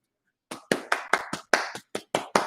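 Hand clapping during a live sports talk stream: nine sharp claps in a steady rhythm, close and clear with nothing else heard.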